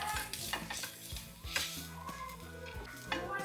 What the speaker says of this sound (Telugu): ఉల్లిపాయలు, కరివేపాకు ఇవి మంచిగా వేగనివ్వాలి